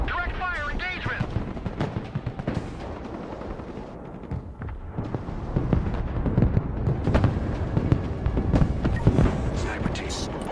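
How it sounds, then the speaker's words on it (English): Rocket artillery from an MLRS launcher in a war video game fires a continuous crackling barrage of bursts and rumbling blasts for about ten seconds, with game voices speaking over it. "MLRS ready to fire"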